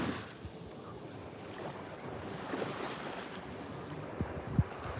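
Beach surf at Playa del Carmen, Mexico, gives a steady broadband wash of waves and wind with a low rumble underneath and occasional soft thumps.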